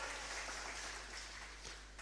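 Applause from a church congregation for the sound booth operator, a steady broadband wash of many hands clapping that stays fairly even for two seconds before easing slightly.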